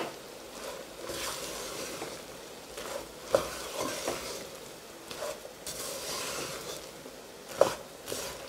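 Groundnuts being stirred as they cook in a non-stick pan, giving a steady sizzling hiss with scraping sweeps and a couple of sharper clinks of the utensil against the pan, with no talking.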